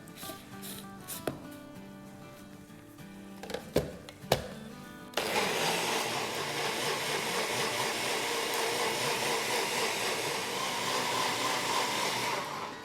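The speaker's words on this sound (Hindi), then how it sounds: "तो अब इसे अच्छे से ब्लेंड कर देंगे।" An electric blender whirs steadily as it blends half a cup of unsweetened desiccated coconut, starting abruptly after a few quiet clicks and bumps and running loud and continuous to the end.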